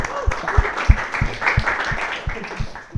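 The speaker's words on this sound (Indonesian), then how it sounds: "Jadi tepuk tangan dulu siapapun." Audience applause at a live comedy sketch show in Indonesia, a steady wash of clapping with a few voices mixed in and soft rhythmic thumps underneath.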